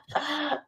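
A single harsh cough bursts out at close range, rough and throaty, with a brief rasp trailing off over under a second, from a person whose voice is hoarse with a cold.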